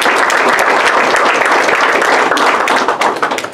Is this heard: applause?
yes